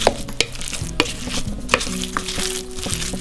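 Squash, diced pear, Parmesan cheese and chili powder being stirred together in a bowl for ravioli filling, a close, steady scraping and mixing with a few sharper clicks of the utensil against the bowl.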